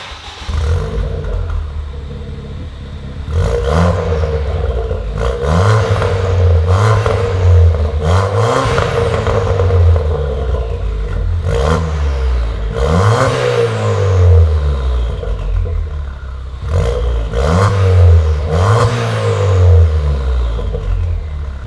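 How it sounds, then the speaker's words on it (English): A Ford Fiesta ST with a new exhaust revs repeatedly, each rev a loud rising roar with a raspy exhaust note before dropping back to a rumbling idle. "check out the new exhaust that we put on the car"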